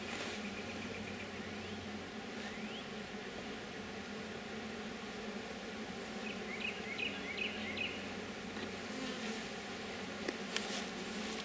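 Honeybees in a Layens hive give off a low, steady hum with a faint, even drone, and a few light clicks and chirps surface now and then.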